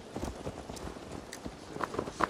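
A horse in Assassin's Creed Valhalla gallops with quick, uneven hoof clops over a busy game soundscape, the hoofbeats getting sharper and louder near the end.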